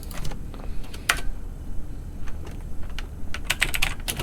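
Commands being entered on a computer keyboard while setting up an NGINX proxy server, close crisp key clicks in irregular bursts with a few sharper taps.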